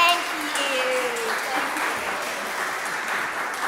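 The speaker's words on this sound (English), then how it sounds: "Give yourself a round of applause." An audience at a community talent show applauds, a continuous burst of clapping lasting a few seconds with voices mixed in.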